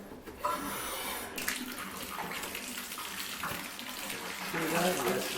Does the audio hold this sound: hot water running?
yes